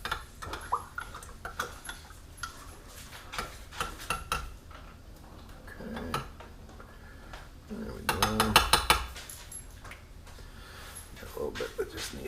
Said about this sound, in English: Give our yeast a little stir.